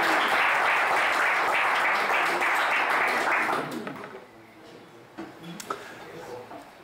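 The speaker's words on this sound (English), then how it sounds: "Big round of applause." Loud, dense applause from a tech conference audience at Babashka Conf 2023 fills the first few seconds, then fades out, leaving a quieter room with a few scattered claps.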